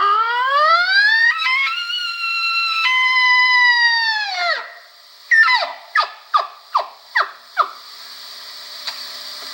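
A voice imitates a bull elk search call through a tube: two long rising, whistly bugle tones with strong harmonics, followed by a run of about six short sharp grunts, fairly loud and alone.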